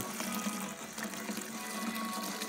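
Filtered water pours steadily into a vessel to dissolve malt sugar for homebrewing beer, making a continuous close splashing rush that barely changes. No talk.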